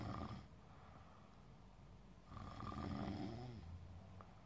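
Snoring from a neighbour comes faintly through an apartment wall, two slow rasping breaths with a quiet pause between, muffled and distant in an otherwise hushed room.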